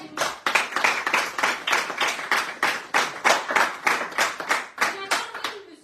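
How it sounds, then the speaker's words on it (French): A small studio audience claps in a strong, even rhythm, about a dozen sharp, loud hand claps in unison at a radio show, with no talking over them. "Allez, applaudissez-la, la Paulette."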